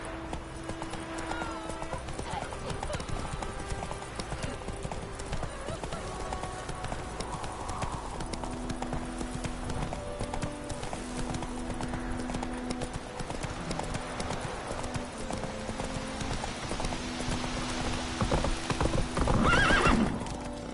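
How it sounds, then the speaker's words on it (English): Horse hooves clip-clopping in The Witcher 3, steady trotting under game music and ambience, with a brief whinny and a spoken voice in between. "Whoa there, Roach."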